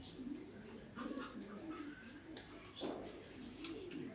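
Racer pigeons coo softly nearby, repeated low throaty rolling calls in a steady rhythm, faint and overlapping, with a few brief higher chirps.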